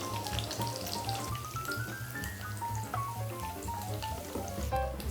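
Tofu fries in hot oil, crackling and popping steadily at a moderate level beneath a melodic background tune, with no talking.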